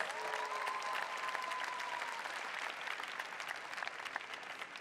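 Graduates at a university hooding and diploma ceremony receive sustained audience applause, a dense, even roar of many hands clapping that continues for several seconds.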